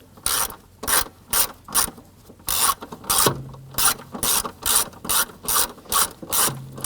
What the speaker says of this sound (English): Let's go ahead and remove the 2 screws holding on our lower knee panel here.